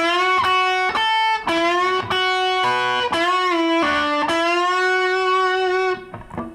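Distorted electric guitar plays a solo line of sustained notes, with string bends pushing the pitch up and back down, ending in a fading bend.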